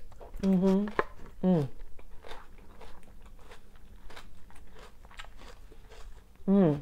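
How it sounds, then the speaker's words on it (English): Crisp crunching bites and chewing of a fresh cucumber and apple salad, several crunches up close, with a voice speaking briefly between them. "So crunchy. Crisp cucumber and apple."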